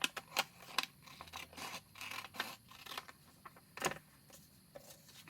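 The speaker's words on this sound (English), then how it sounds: "I am going to cut up this line right here" Scissors cut paper along a line in a run of crisp, irregular snips and rustles, close and fairly quiet, with no talking.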